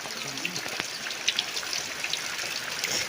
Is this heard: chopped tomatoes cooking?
no